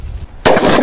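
A Lakshmi bomb firecracker goes off in one sudden, very loud close blast after a quiet moment, and its harsh roar carries on to the end.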